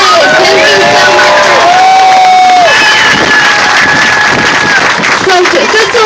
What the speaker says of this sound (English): Everybody give one more round of applause for Dee Reyes.